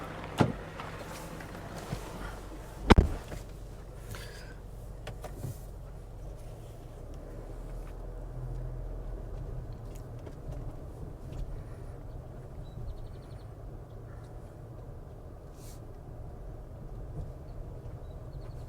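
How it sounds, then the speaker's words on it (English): A car drives along with a low, steady road and engine rumble from inside the cabin, opening with a couple of sharp door or interior clunks, then a long even drone. "I'm going to drive over there right quick."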